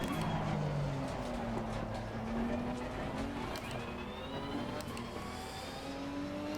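A Nissan GT-R race car in Assetto Corsa Competizione holds a steady, loud engine drone whose pitch climbs gradually under load, with a faint whine riding on top.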